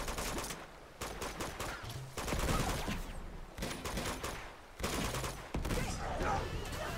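Bursts of gunfire in the Uncharted 2 video game during a tranquilizer-gun-only run, rapid volleys coming in several loud clusters, mixed with game sound effects.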